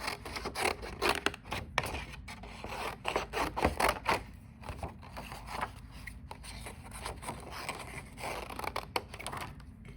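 Scissors cut out small watercolor paper hearts for a Valentine card, giving close, irregular snipping and rustling paper scrapes in bursts, with no talk.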